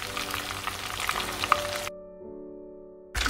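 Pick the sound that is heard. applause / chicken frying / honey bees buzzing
chicken frying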